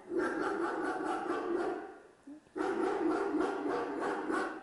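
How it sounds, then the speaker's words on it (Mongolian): A dog barks in repeated bursts, moderately loud and close, with a brief pause midway before the barking resumes, heard during a children's Mongolian-language speech exercise lesson. "Нохой хуцаж байна."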